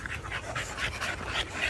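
Several dogs of a bully breed panting together outdoors, a continuous rapid breathy rhythm at close range with no talk.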